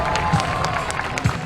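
A crowd at a state fair high dive show in West Virginia claps and cheers for a diver, a steady wash of applause with scattered whoops, brief and moderately loud.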